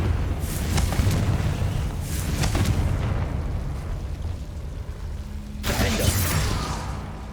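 Confringo fire spells explode in the Hogwarts Legacy video game as a series of booming blasts with sharp crackling bursts, spaced unevenly over rumbling background game sound.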